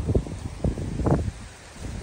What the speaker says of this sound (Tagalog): Lakas ng hangin at saka lakas ng ulan.